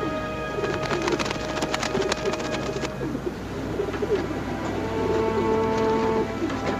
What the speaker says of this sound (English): Talks to those pigeons like they were people.